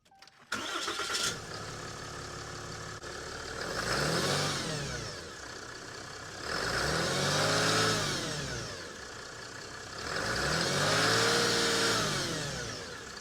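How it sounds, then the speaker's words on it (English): A 2022 Ram 3500 diesel pickup with its stock air intake cranks and catches, settles into a steady diesel idle, then revs up and falls back three times in slow, even swells. "I'm going to let you hear the truck idle, and then I'm going to rev it up a couple times"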